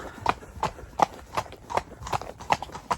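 Horse hooves clip-clopping at a steady trot while ridden without stirrups, evenly spaced footfalls close by, with faint talk in the background.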